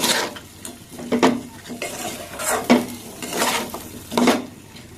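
A spiced mixture being stirred and sautéed in a pan, a soft sizzle under repeated metallic scraping and clinking strokes of a spoon against the pan, close and rhythmic, no voices.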